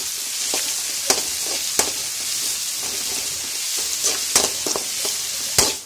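Onions sautéing with salt in a hot pan for tomato curry, a steady sizzle broken by sharp scraping clinks of a spoon stirring, with no voices.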